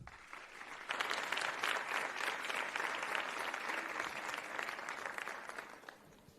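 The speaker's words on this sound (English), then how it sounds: "Let's give a round of applause to Joshua Lemenkis." Applause from an audience at a learner-leadership summit, a dense sustained wash of clapping that swells after a quiet start, holds steady for several seconds and begins tapering at the end.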